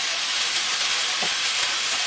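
Rice noodles go into a hot wok with stir-fried vegetables, and a loud, steady, close-up hiss of sizzling runs unbroken throughout, with no talking.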